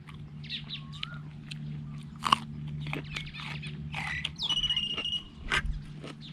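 Papaya salad with fresh wolffia is chewed close up, giving soft crunchy bites scattered over a quiet outdoor background of crickets, insects and occasional birdsong.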